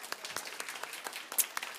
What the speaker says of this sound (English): Please bring an applause for him as well.